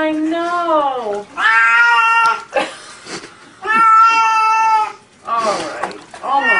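A cat meows loudly and repeatedly while being bathed, long drawn-out wailing cries close up, separated by brief pauses.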